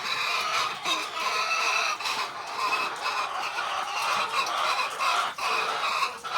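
Flock of layer hens raised for egg production, clucking continuously and close, with overlapping calls and clucks from many birds and no talking.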